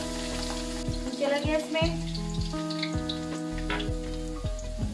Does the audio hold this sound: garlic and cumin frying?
yes